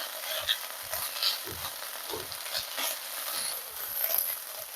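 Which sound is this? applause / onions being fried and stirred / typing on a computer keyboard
onions being fried and stirred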